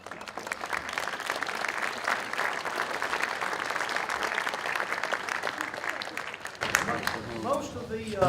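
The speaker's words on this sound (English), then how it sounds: "I just wanted to give you a round of applause and appreciation." A roomful of people at a Cullman High School Bearcat football meeting claps steadily for the quarterback club, a dense, even wash of applause that fades after about six seconds as a voice starts talking over the last of it.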